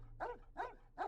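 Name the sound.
dog barking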